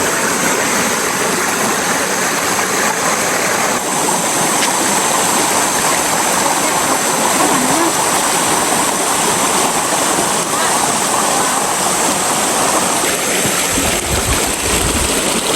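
A rocky river stream rushes steadily, a loud, continuous broadband wash of flowing water that stays even throughout, with a faint voice briefly under it.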